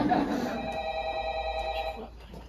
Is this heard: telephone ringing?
yes